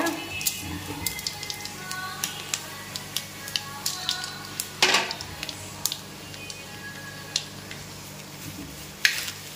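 Fenugreek and fennel seeds crackle and sizzle in hot oil for an egg curry, a steady frying hiss punctuated by frequent sharp pops and spits, close and fairly quiet, with no talking.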